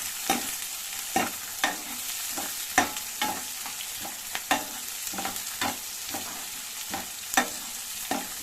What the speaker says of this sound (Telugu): ఆనియన్స్ తీసుకోవాలండి పచ్చిమిర్చి కూడా తీసుకోవాలి కొద్దిగా బాగా ఫ్రై చేయాలండి